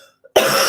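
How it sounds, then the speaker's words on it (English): A single sharp cough bursts out loudly and close, after a brief quiet moment. "Sorry if I'm coughing."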